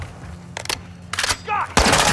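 Bursts of automatic gunfire in Call of Duty Modern Warfare 2 during a prison break mission, several short volleys crackling in quick succession with a louder final burst, mixed with game effects.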